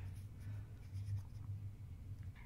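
A gel pen scratches faintly across a Totoro craft card while drawing small circular eyes. The strokes make soft, intermittent scribbling sounds over a low background hum, with no talking.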